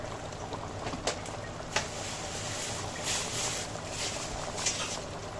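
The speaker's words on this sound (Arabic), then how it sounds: "رش الزيت" Cooking oil drizzled into a pot of Egyptian fatta as it is stirred, giving a soft, steady pouring hiss with a few faint clicks and taps from the pan.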